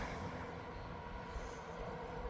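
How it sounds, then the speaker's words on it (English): Freight train behind two vintage locomotives rolling past near Pound, Wisconsin, a steady, fairly distant rumble of railcars and wheels on track throughout. "The train's coming."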